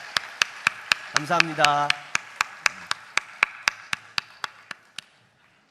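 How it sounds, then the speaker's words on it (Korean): An audience in a large worship gathering claps in a steady, sharp rhythm, each clap ringing with reverb, while someone speaks briefly over it; the beat slows and fades out. "뜨거운 박수 부탁드립니다."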